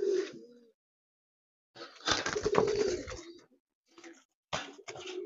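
Paired pigeons coo at close range in short, throaty bursts separated by silent gaps, one longer rolling call in the middle, with no talking.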